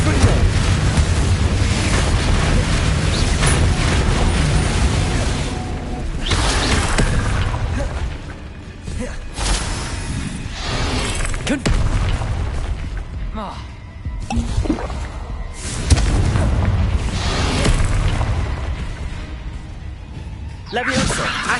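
Confringo fire spells blast in the Hogwarts Legacy video game, a dense run of loud booming bursts and rumbling effects over a constant roar, with a voice heard among the action.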